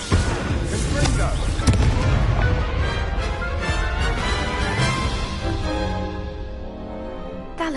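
In the Hogwarts Legacy video game, a Confringo blasting spell erupts in a loud booming explosion with crackling debris that slowly fades over several seconds.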